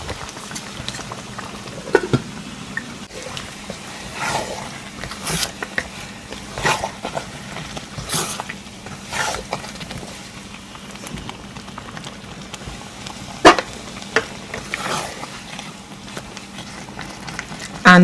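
Keto okra soup simmers in a covered pot, with steady bubbling and crackling, irregular pops and small hisses throughout, close and continuous.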